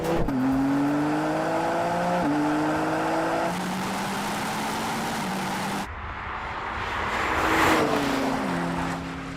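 A BMW M4 CS accelerates hard in a drag race, its engine note climbing repeatedly through gear changes in a loud, sustained run, then a rushing pass with fading revs.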